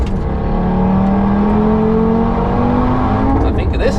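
A fast Mercedes C63 AMG wagon closes in from behind on the Nürburgring track, its engine rising steadily in pitch over a constant rumble of wind and road noise, sounding near and loud without talk.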